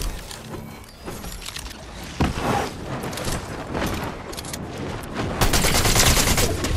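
Fortnite gunfire in rapid bursts, dense overlapping shots and impacts that grow heavier and louder toward the end.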